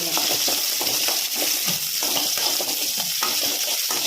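Garlic and chopped onion sauté in a pan for brinjal curry while being stirred. A loud, steady sizzle runs throughout, broken by regular scraping strokes from the spoon.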